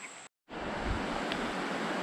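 Creek water rushes past a rock dam below an old railroad tunnel, giving a steady, full hiss of flow. After a brief dropout near the start, it runs on without any talk.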